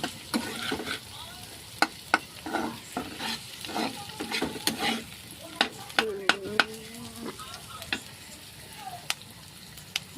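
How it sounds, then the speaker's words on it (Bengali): Onions fry in a pan while being stirred slowly, repeated scraping strokes of a utensil over a light sizzle, close and irregular, with brief faint voice sounds mixed in. "আস্তে আস্তে নাড়তে থাকবো।"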